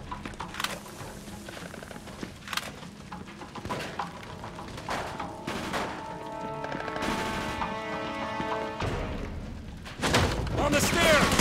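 Gunfire from the Mafia II video game during a World War II battle, with repeated sharp bursts and shots scattered through the scene amid shouting voices and game music.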